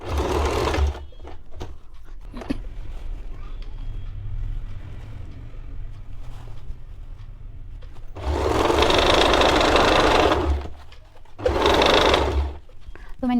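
A sewing machine stitches a silk girl's top in several close, loud runs, a steady mechanical whir that stops and restarts, with handling noises between bursts.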